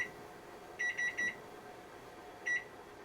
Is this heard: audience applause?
no